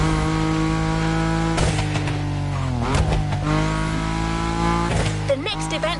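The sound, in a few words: car drifting in The Crew Motorfest video game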